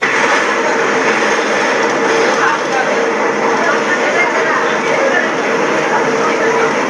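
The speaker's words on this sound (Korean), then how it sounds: "먼저 그냥 지하철 소리를 한번 들어보겠습니다." Steady, loud subway train noise rumbles continuously throughout, a dense broadband roar with faint rattling and no pauses, the kind of ambient metro sound a pair of noise-cancelling headphones is tested against.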